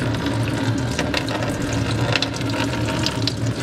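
Oil drains steadily from a disconnected hose during a PPE oil filter relocation on an L5P Duramax diesel, a continuous, even liquid rush close by with no talking.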